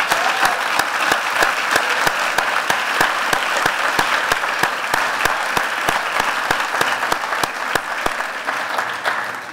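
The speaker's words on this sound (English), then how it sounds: "So if you guys could actually stand up and we can give a round of applause, please." An audience at an awards ceremony for a global activist award gives steady, full applause, a thick sustained wash of many hands with a few sharp, regularly spaced claps standing out throughout.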